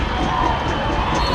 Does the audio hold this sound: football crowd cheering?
yes